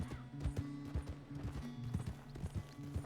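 Horse hooves clip-clopping in Red Dead Redemption 2, a steady trotting rhythm of repeated hoof strikes, fairly close and clear, with occasional faint snorting and no speech.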